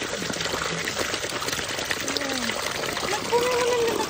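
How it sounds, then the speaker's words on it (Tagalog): Water trickles and pours into a container beside a fishpond, a soft continuous splashing and gurgling under people chatting nearby. "Nagpuno mo ng lalagyan."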